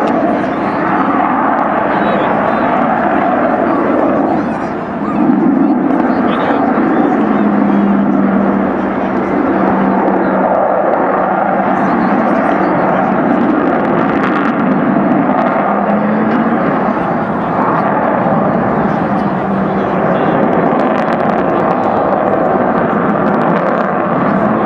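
Avro Vulcan XH558 delta-wing bomber flying past at the Farnborough Airshow 2012, a loud continuous jet roar that swells and fades, with a commentator talking over it.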